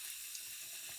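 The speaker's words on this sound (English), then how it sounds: "with the sink running very lightly, I expel any remaining ink and suck in some fresh water" A kitchen sink tap runs lightly while a fountain pen converter is flushed clean of ink, making a soft, steady watery hiss throughout with no voices.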